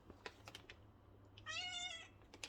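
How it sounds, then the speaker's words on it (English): Pet cats meow while being fed at home in the morning: one clear, drawn-out meow stands out in the middle, surrounded by soft clicks and light clatter, with no talking. "as I feed my cats. You can hear them."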